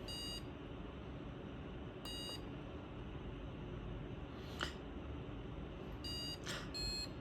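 A small electronic buzzer in a PatternPulse LED memory game gives short, high, bright beeps, a few spaced single tones and a quick cluster near the end, over a steady low background hum.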